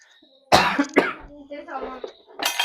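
Two harsh coughs burst out close by, followed by a voice talking.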